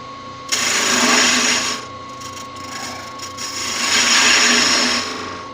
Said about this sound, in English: I'll get in there with a smaller detail gouge to clean them up a bit in there